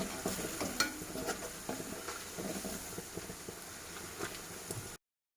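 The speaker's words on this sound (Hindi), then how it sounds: "ये पकोड़े आपको मीडियम फ्लेम पे फ्राई करने हैं।" Sabudana pakoras fry in hot oil over a medium flame, giving a steady, dense sizzle with crackling and a few stirring knocks for about five seconds before it cuts off abruptly.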